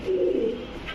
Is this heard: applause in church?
no